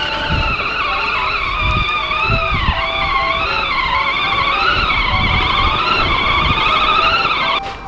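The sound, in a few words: kids' tractor clearing a path through snow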